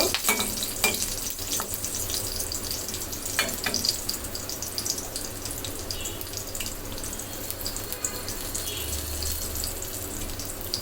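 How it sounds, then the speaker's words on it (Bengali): Onions lightly frying in a pan for a sardine mash, giving a steady close sizzle with occasional scraping stirs and a faint watery trickle running beneath it. "এখানে পেঁয়াজটা ভেজে নিতে হবে আপনারা কাঁচা পেঁয়াজ দিয়েও বানাতে পারেন আমি একটু হালকাভাবে ভেজে নিব"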